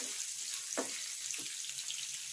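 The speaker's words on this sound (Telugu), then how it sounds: "అవి బ్రౌన్ కలర్ అయ్యే వరకు మనం ఫ్రై చేసుకోవాలి." Onions frying in a pan for a tambakaya (bitter gourd) fry, a steady close sizzle throughout with a couple of brief stirring scrapes, no talk.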